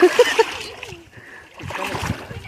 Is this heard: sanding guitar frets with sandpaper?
no